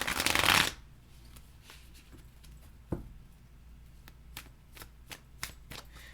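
Tarot cards shuffled in a quick, dense riffle lasting under a second, followed by quieter scattered taps and flicks as individual cards are drawn and laid down, close and clear with no talking.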